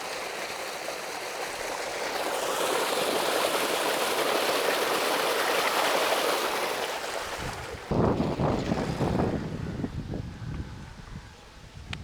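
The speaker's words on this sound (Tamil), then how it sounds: "இங்கே பாருங்கள் எப்படி வருது தண்ணி." Fast-flowing water rushes loudly and continuously, a broad steady roar that fades slightly near the end, with some rougher splashing noise.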